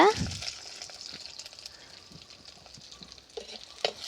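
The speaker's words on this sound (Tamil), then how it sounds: "அடுத்தது சின்ன வெங்காயம் சேர்த்துக்கோங்க" Small onions hit hot oil seasoned with mustard seeds, cinnamon, star anise and cloves, giving a brief burst of sizzle that fades to a quiet, steady frying crackle with a few faint stirring taps near the end.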